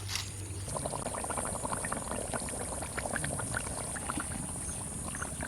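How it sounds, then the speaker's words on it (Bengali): Potato curry bubbling at a steady boil in a pot, a continuous dense gurgle with small popping bursts, fairly quiet and unbroken, no talking. "আলুর ঝোল ফুটে গেছে আর আলু খুব সুন্দর গলে গেছে"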